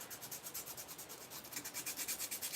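Wood filler being sanded by hand over a bin, a steady rhythmic back-and-forth rasping with about fifteen even strokes, close and fairly quiet, with no voices.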